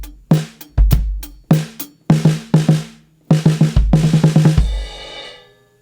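Live drum kit playing a worship-style groove, with punchy kick and snare hits and a quick burst of 16th-note fill strokes on beat three, close and dry, ending in a ringing cymbal decay.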